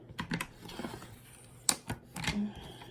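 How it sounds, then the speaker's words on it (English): A paper trimmer slices the ends off paper cash envelopes in a few quick, sharp clicks and cutting strokes up close, with pauses between them. "I'm just gonna trim these ends right fast."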